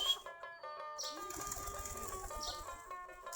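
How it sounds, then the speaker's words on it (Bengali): Native Giribaz pigeons from a flock of about 40 to 45 pairs, feeding on rice and drinking water, give faint, brief wing flutters and soft chirps over a steady tonal background. "সম্পূর্ণ দেশি গিরিবাজ কবুতর"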